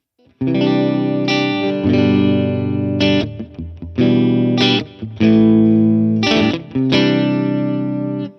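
Heavily distorted electric guitar plays thick, sustained chords through an amp simulator, with short pauses between strummed phrases, loud and close.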